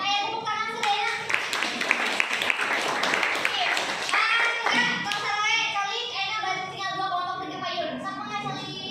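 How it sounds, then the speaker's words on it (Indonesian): A group of people claps hands together in a classroom, the brisk claps mixed with children's voices and chatter throughout. "Ya, saya tepuk tangan sedaya."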